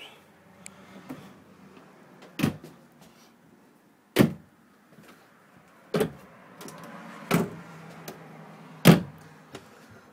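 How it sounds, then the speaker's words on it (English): Drawers are pushed shut one after another inside a 2011 Sandpiper 355 QBQ camper trailer, giving five or six sharp, close thumps spaced a second or two apart over a quiet background. "There's a lot of drawers to shut here."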